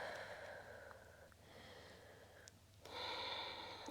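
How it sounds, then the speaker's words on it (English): Soft, close breaths in and out during a yoga session, a slow inhale-and-exhale rhythm with faint airy sniffing, quiet and alone with no talking. "Breathe in and breathe out."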